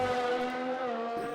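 A race car sweeps through the last corner in a racing video game, its engine a loud, close, strongly tonal whine that holds steady and then dips briefly as it passes.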